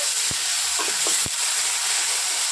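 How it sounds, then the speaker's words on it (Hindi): Long-grain rice roasts dry in a pan with a soft, even hiss, punctuated by a few scraping stirs and light knocks of the spoon against the pan. "इस तरह हमें छुटाते हुए अच्छे से भून लेना है"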